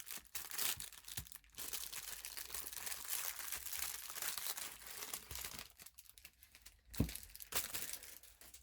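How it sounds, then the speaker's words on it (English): Plastic packaging around a crochet hook holder is rustled and crinkled up close, with continuous crackly handling noise and a few sharper crunches throughout. "prepare for rustling plastic."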